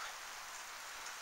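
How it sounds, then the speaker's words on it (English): Freezing rain during an April ice storm hisses in a dense, even wash of fine drops, steady and close with no other sound. "It is raining"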